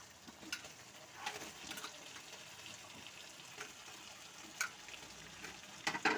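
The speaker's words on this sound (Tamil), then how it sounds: "கத்திரிக்காய் நல்லா வதங்கட்டும்" Brinjal sautéing in oil, a quiet, continuous frying hiss with faint crackles and a few sharper clinks or scrapes near the end, moderately close with no voices.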